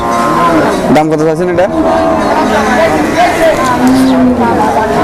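Water buffalo lowing loudly at a busy livestock market, a deep drawn-out moo rising over constant crowd babble and nearby bargaining voices.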